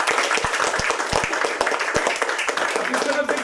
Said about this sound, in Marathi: आणि एक जोरदार टाळ्या या सिंगल मदरचा